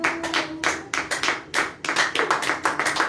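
A church congregation claps in praise, a dense, steady rhythm of many hands beating in unison, loud and close, with a faint sustained tone underneath and no voices.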